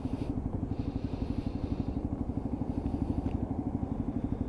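Lexmoto Assault motorcycle engine running steadily with the clutch pulled in during braking, a close, even, rapid putter with a constant low thrum and no break.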